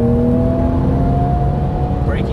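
Porsche 991 Turbo accelerating on a Las Vegas race track, a steady loud engine drone with a rising whine toward the end, heard from inside the car.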